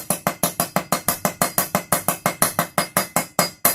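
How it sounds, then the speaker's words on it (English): A hammer taps a front wheel bearing into place on a Husqvarna riding mower in a steady, even rhythm, about seventeen sharp, ringing strikes in quick succession, close and loud. "take a hammer and just gently tap it in"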